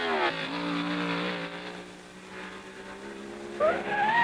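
Formula 1 race cars at the 1962 French Grand Prix roar in a steady engine drone that sinks slightly, then a rising rev as another car passes, loud and continuous.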